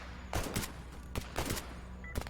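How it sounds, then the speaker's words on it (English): Gunfire in the video game S.T.A.L.K.E.R.: GAMMA, several quick bursts of shots in pairs and clusters, moderately loud against a low steady ambient hum, with no one speaking. "Everybody started shooting."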